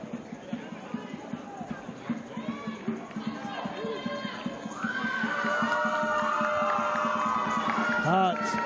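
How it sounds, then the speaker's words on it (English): A cheer squad at a netball semifinal between Darwin Olympic and Darwin Hearts rises into sustained loud cheering and chanting, following rhythmic footfalls and crowd noise with a commentator talking over it. "cheer squad going off."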